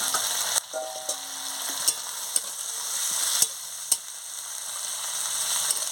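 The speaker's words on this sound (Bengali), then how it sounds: "ভালো করে নাড়িয়ে নিচ্ছি।" Onions and spices sizzle steadily in a hot pan for chilli chicken, with a spatula stirring through them and a few sharp scrapes and clicks against the metal standing out above the continuous frying hiss.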